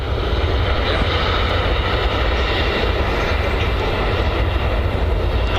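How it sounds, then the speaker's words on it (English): At Manchester Airport, a landing airliner roars under heavy reverse thrust, a loud, steady, broad rumble that holds throughout without a break. "Using a lot of reverse thrust to stop the aircraft."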